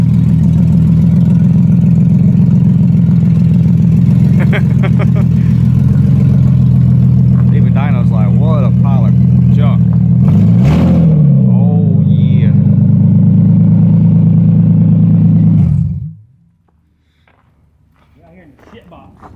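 A race car engine idling loudly and steadily with a deep rumble, briefly revving partway through, then cutting off near the end; people talk over it.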